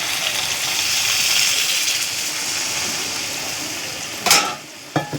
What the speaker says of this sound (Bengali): ভাজা ভাজা হয়ে গেছে, আমি এখন সামান্য জল দেবো।